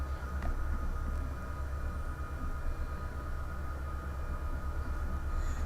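A unit train runs in the Run8 Train Simulator video game, its low locomotive rumble and rhythmic wheel clatter steady and moderately loud, with no speech.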